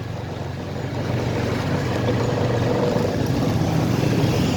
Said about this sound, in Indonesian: Ini kita bermotor dulu dengan motor Honda Vario